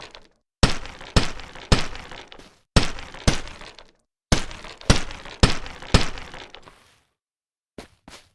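Pickaxe striking repeatedly in the Strayed VR video game, a series of sharp, loud cracking hits in quick bursts with short pauses between, ending with a couple of fainter knocks.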